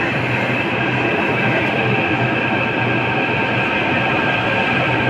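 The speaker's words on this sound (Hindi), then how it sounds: "यात्री कश्मीरी गेट के लिए आ गई मेट्रो।" A Delhi Metro train pulls into a small station with a loud, steady rumble and high electric whine, close by and constant, with wheels running on rail and no talk over it.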